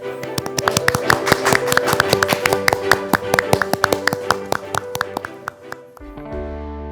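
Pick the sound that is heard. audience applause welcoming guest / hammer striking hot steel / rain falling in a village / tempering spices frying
audience applause welcoming guest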